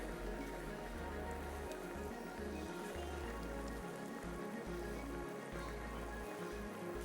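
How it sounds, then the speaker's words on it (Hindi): Cumin seeds and curry leaves sizzling in hot oil for a tempering, a continuous, even crackle and spatter close by with no talk. "अब जनाब बनेगा इसका तड़का।"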